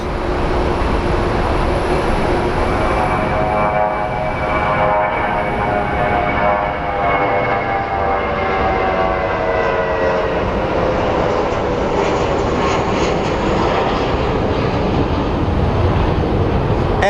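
Southwest Airlines jet at Phoenix Sky Harbor airport, a steady loud jet engine roar with a rising whine, continuous and fairly close throughout, with no talking over it.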